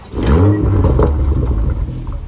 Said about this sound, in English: I want the sound out of the exhaust.